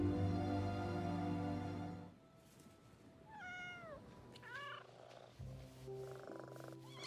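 A cat purring and meowing, close up. A steady rumbling purr at first gives way to a series of short rising meows and chirps, with the purr returning softly underneath near the end.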